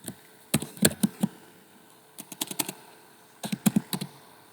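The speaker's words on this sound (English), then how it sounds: "start typing the invoice information" Typing on a computer keyboard while entering invoice details, clusters of quick close clicks in three bursts separated by short pauses, crisp and moderately quiet.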